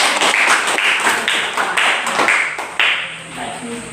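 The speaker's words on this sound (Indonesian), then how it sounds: "Tepuk tangan dulu Alfred." Classroom group clapping in a rhythmic pattern, a series of loud, evenly spaced bursts of hand claps from several people, close by, with some voices mixed in.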